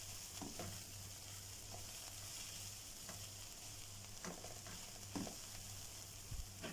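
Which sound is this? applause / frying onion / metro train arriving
frying onion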